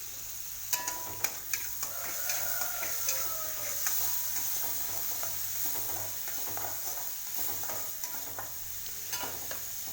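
Vegetable fritters (bakwan) sizzle in hot oil in a pan, a steady crackling hiss broken by sharp ticks and scraping stirs of a utensil, close up with no talking.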